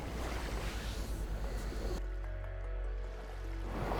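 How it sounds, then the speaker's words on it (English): Waves washing up and down a beach, a broad steady rush of surf with a brief softer lull before the wash swells again. "listening to the waves lapping up and down the beach"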